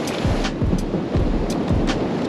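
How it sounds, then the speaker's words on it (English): Huge ocean waves crash onto a beach in a constant, loud roar, with heavy surges breaking every half second or so and no voices over the surf. "these waves are huge"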